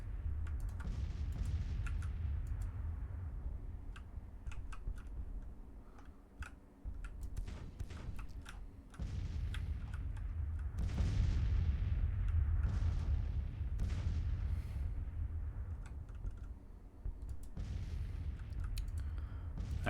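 Artillery batteries fire repeatedly in Grand Tactician: The Civil War, with low booms and sharp cracks recurring over a steady rumbling battlefield bed, loud and dense throughout with no voices.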